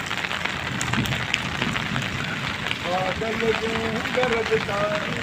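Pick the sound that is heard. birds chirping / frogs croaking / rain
rain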